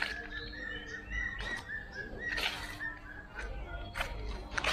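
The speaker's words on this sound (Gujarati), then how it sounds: "કેટલી સ્વીટ સાઉન્ડ કરે છે આવાજ બર્ડ ગાતી હતી" Birds chirp and sing repeatedly in short bright phrases after rain, moderately near, over a steady low background rumble.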